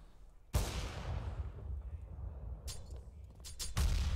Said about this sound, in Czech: ozývají se rány z AWP